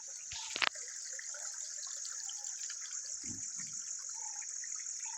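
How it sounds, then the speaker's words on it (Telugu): Water runs steadily through a canal below Udayagiri hill, a continuous rushing flow heard alone, with a couple of brief knocks near the start. "ఈ వాటర్ వచ్చేసి ఉదయగిరి దాకా కింద దాకా ఈ కాలువ ఉదయగిరికి పోతుంది"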